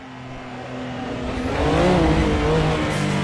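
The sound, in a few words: race car engine downshifting in a VR racing game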